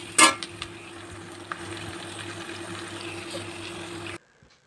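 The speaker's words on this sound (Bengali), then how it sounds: "এরপরে দেখো পেঁপে আর আলু খুব ভালো করে ভাজা ভাজা করে নিচ্ছি" Pieces of papaya and potato fry in hot oil in a pan, giving a steady close sizzle with stirring clatter and a sharp knock at the start, ending abruptly in near silence.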